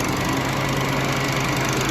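A Cub Cadet CC600 walk-behind lawn mower engine runs steadily nearby, a loud, constant buzzing drone with no change in pitch and no talk over it.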